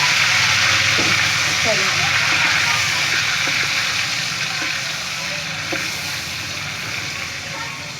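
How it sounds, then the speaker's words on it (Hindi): Ground chicken keema slides into hot oil in a kadhai for a dhaba-style dish, raising a loud, steady sizzle that fills the whole stretch and eases slightly toward the end, while a voice speaks briefly over it. "अब हम इसके अंदर अपना चिकन डालेंगे आराम आराम से।"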